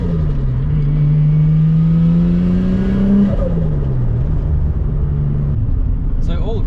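Nissan Skyline R33 engine pulling hard under high boost, a loud rising drone that climbs steadily for about three seconds, drops at a shift, then climbs again, with a faint talking voice beneath.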